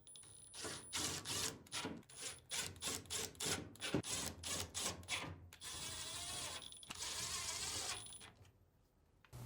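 Screws go back into the front panel of a Samsung appliance, a close run of quick, regular clicks and short whirring bursts like a power driver, with a brief gap before a longer sustained whir near the end.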